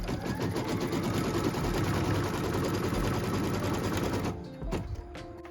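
A sewing machine runs fast and steady, stitching a tack down line through denim fabric in a continuous chattering rhythm, then stops abruptly with a few final clicks.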